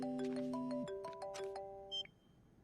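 Electronic phone ring on an outgoing call, a repeating two-tone melodic tone in short bursts over about two seconds, ending in a brief high beep, clear and close with no talk.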